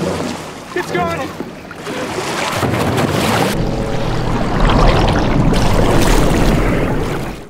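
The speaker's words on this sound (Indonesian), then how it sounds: "mereka melintasi danau menggunakan satu-satunya perahu" A boat motor drones steadily as the boat crosses a lake in a film, with water rushing and wind buffeting the microphone, growing louder as it moves along.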